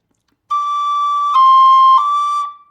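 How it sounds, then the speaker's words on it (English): A single sustained Irish tin whistle note played slowly, broken by two brief ornamental cut flicks partway through before it fades out. "So in slow motion, the cut would sound like this"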